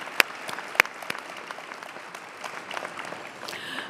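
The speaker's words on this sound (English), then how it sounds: "Let's give them another round of applause." Audience applause at a nursing symposium, a steady patter of many hands clapping at a distance with a few sharp, close claps near the start.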